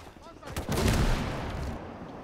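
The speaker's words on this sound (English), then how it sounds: "that guy threw a perfect grenade in there" A grenade blast in the WWII game Gates of Hell: Ostfront: one heavy explosion swells in about half a second and then rumbles and decays slowly across the rest of the moment, amid combat noise.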